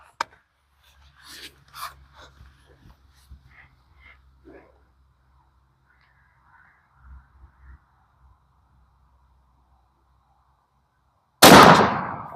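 Shotgun with a choke fitted fires one loud, sharp blast near the end at an outdoor range, after a long quiet stretch with scattered soft handling clicks and shuffles.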